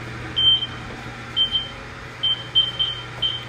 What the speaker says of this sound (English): So we'll turn off our timer.